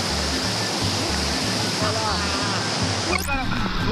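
Waterfall and river at Tioyacu in San Martín, Peru, roar as a loud, steady wash of rushing water close by, with a person speaking briefly over it and a short high chirp near the end.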